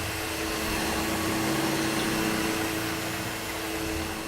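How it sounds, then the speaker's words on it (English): An electric vacuum cleaner with its motor-driven fan runs steadily, giving a loud, continuous whooshing drone with a faint steady whine and no pauses. "A vacuum cleaner is made up of a vacuum chamber, which encloses a fan turned by an electric motor"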